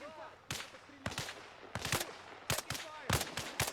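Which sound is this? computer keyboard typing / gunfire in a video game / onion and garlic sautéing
gunfire in a video game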